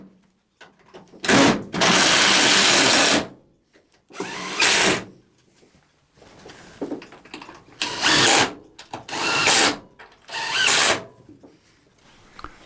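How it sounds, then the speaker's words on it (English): An impact driver fires in repeated bursts of a few seconds each, about six in all, as it tightens screws into nut rivets on tooling cabinet shelves. The bursts are close and loud, separated by short pauses, with no talking. "now use the impact driver to do them all up"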